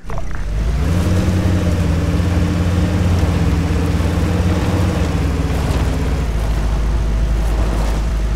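A vehicle engine in the military game Arma 3 idles and revs, a loud steady low-pitched drone with rising and falling harmonics that holds throughout before easing slightly at the end.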